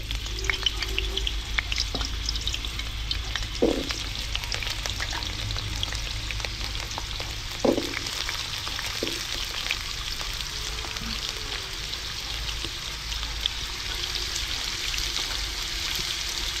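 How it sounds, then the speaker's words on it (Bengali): Whole, uncut local potatoes fry in hot oil during outdoor cooking, producing a continuous, close sizzle with a few scattered clinks and knocks. "তেল গরম হয়ে গেছে, এই যে দেশি আলু আর ভাগ করি নাই, গোটা গোটা আলু দিয়ে দিচ্ছি।"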